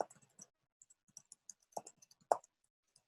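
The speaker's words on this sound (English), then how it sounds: "I can hear typing." Quiet, irregular clicking of keys being tapped, a few sharper clacks among softer presses, close by with no talking.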